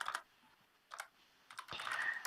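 Computer keyboard keys being typed in short bursts, a quick cluster of taps, a pause, another brief flurry, then a denser run of close, crisp clicking at the end, with no voices.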